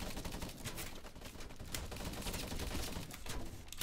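Rapid bursts of gunfire in the Crowz video game, dense crackling volleys and sharp individual shots repeating throughout, loud and close with no pauses.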